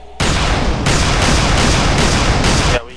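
Loud, close rapid-fire gunfire from Dead Island comes in several dense sustained bursts back to back, broken by short gaps and then stopping abruptly.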